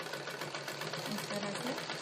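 A sewing machine runs steadily while stitching blouse fabric, a continuous close whirring hum that holds level for the whole brief stretch, with no pauses.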